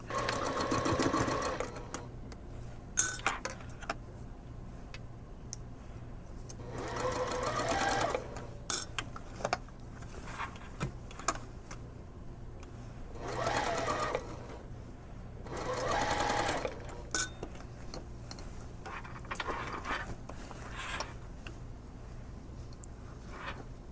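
A sewing machine stitches the side seam of a puffy sleeve, sewn from the sleeve side with the shirred part underneath, running in several separate bursts of steady whirring with quiet pauses and small handling clicks between them.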